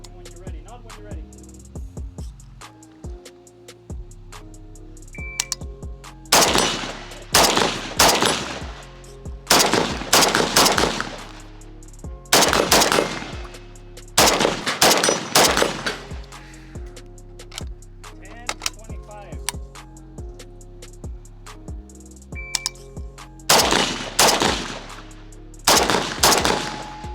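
Rapid bursts of rifle fire from a Zastava M90 during a timed course of fire at a range, with loud repeated volleys separated by short pauses across the stretch.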